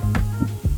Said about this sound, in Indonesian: ini saya ketuk-ketuk suaranya seperti ini